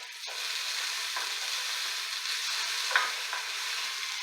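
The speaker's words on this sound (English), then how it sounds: "That sizzling is just the water interacting with the olive oil." Brown rice sizzling and toasting in olive oil in a pan, a steady close crackling hiss that runs throughout with faint stirring scrapes.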